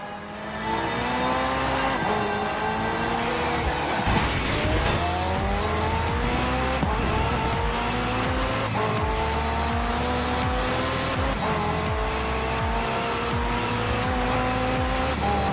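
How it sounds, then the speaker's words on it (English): McLaren twin-turbo V8 hybrid car driven in Forza Horizon 4, a loud, continuous engine note rising through repeated gear changes with a brief tire squeal, up close for the whole stretch. "The car's blistering performance is delivered by a twin-turbo V8, supplemented by a McLaren ECU electric motor and instant power assist system"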